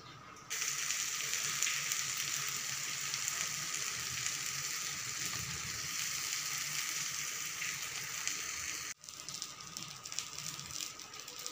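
Steady, loud sizzling of bhakri flatbread cooking on a hot iron tava, a dense crackling hiss that drops briefly near the end before resuming.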